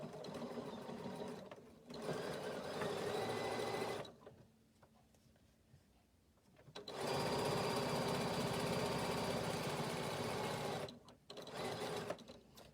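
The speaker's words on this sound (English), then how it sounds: "So I'm starting about here and stitching all the way around to the end, back tacking as we go." A sewing machine stitches around a seam with back tacking, running in long steady buzzing bursts that stop for a few seconds and restart, close and clear with no talk.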